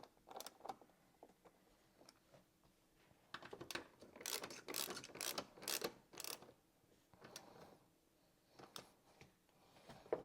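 A ratchet clicks in short bursts while tightening bolts that fix a Recaro SR6 seat onto Bride RO rails for a 2022-or-later Toyota GR86 or Subaru BRZ, quiet and close, with small metallic handling clatter between strokes.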